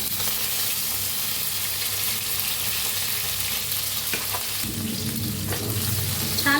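Garlic and finely chopped tomato frying in a pan of hot oil with mustard seeds, a steady close sizzle throughout that swells louder near the end as the tomato goes in.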